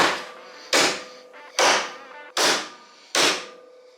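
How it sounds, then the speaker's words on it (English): Four sharp metallic hammer blows on a car part of a wrecked police pursuit Charger, at a steady pace, each ringing briefly before the next, close and loud. "Just hit it with a hammer."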